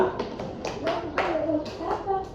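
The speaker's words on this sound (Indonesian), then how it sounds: "Tepuk tangan untuk temannya" Children in a classroom clapping for a classmate, a handful of separate sharp claps in an uneven rhythm, close and fairly loud, with a voice mixed in.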